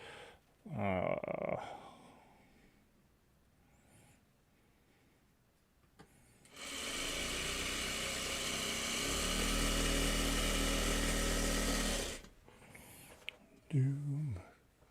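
A sewing machine runs at a steady whirring hum for about six seconds while stitching fabric during a quilting session, with brief bits of talk before and after.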